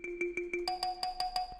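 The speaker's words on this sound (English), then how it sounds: "So in this case, I went over to the kalimba nature. I chose that one for the lead" Plucked kalimba lead from an FL Studio plugin plays a clear, evenly spaced melodic line of about nine bright notes, lower notes first and then a higher phrase, alone and close.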